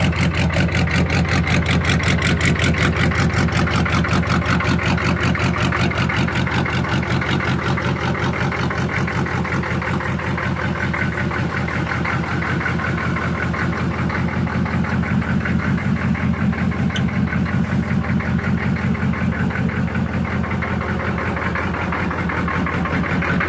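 A diesel-swapped Chevrolet Monte Carlo G-body idles steadily and loudly nearby, a deep rumbling engine with a rapid, even knock-like pulse that holds for the whole stretch without any talk.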